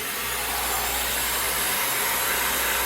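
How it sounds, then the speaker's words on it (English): A vacuum cleaner runs steadily while cleaning a filthy original Crystal Edition Xbox during a restoration, a loud, constant whooshing roar with no pauses and no talking. "Some more vacuuming required."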